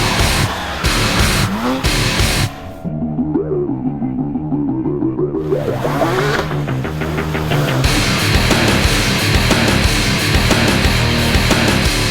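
A Porsche 997 GT3 RS Generation 2 on a racing track, its engine loud and close, rising and falling through the revs with tire squeal and a gear change partway.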